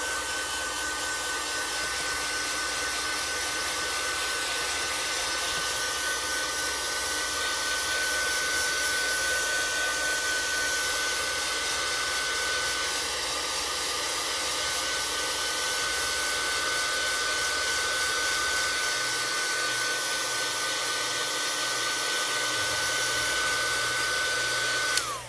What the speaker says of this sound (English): now I'm going to heat set this